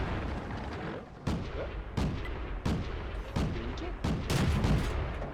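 Tank cannon shots in World of Tanks fire as a series of sharp booming blasts, about seven spaced roughly a second apart over a continuous engine rumble.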